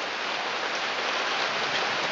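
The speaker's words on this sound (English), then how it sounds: "it's raining this morning" Steady morning rain pouring down in a garden, a dense even hiss of drops on surfaces with no pauses or voices.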